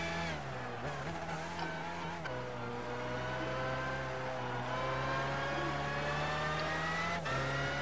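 A 1997 BMW McLaren F1 GTR race car in Gran Turismo 5 holds a loud, steady high-revving engine drone, shifting pitch with gear changes and throttle lifts throughout.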